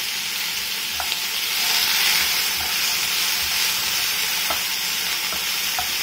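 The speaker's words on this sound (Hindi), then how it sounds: "जैसे जैसे हमारा प्याज और लहसुन भुनेगा तभी हम इसमें ऐड कर देंगे टमाटर।" Onion and garlic fry in a pan, giving a steady loud sizzle and hiss with occasional sharp taps of a spoon stirring against the pan, heard up close with no voices.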